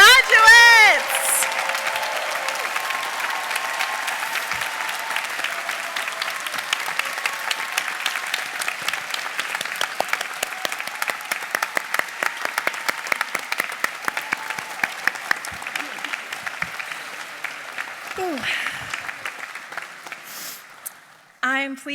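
Audience at a Drexel University honors medallion ceremony applauding honors program graduates, a sustained burst of many hands clapping that swells, then thins out and fades near the end, with a voice speaking briefly over it.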